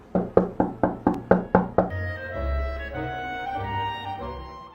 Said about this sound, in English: just knock on the table and you will see the laser patterns on the wall